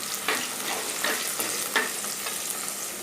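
Ginger-garlic paste and small shallots stirred in a frying pan for a Kerala-style duck curry, with a constant close sizzle and a spatula scraping the pan in regular strokes, and no voices.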